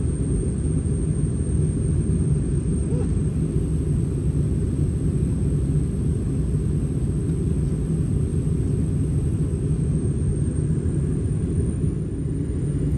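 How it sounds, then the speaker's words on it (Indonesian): Inside a Philippine Airlines Airbus A321 cabin descending toward Manila, a steady, loud broadband roar of engines and airflow carries on without a break and with no voices. "pesawat mulai menuruni ketinggian untuk mendarat di Manila"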